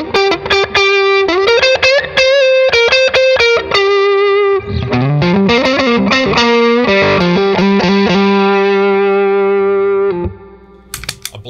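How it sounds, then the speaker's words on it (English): A Fender Custom Shop Thinline Telecaster on its neck pickup with light overdrive plays a bluesy lick, quick picked notes then bends and sustained tones, loud and upfront, ending in a brief pause and a final strum. "Gets a beautiful bluesy sound on the neck pickup with a little overdrive on it."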